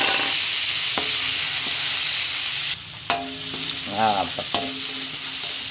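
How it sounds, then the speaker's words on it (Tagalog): Garlic and onion sautéing in a pan for beef menudo, a loud, constant hissing sizzle with occasional stirring knocks and a brief squeaky clatter near the end. "Igisa na natin siya. Lagay na natin ang bawang at lagay natin ang sibuyas."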